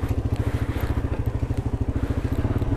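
A Mix 150 motorcycle engine putters close by with a fast, steady pulsing beat as it revs, loud and unbroken with no talking over it.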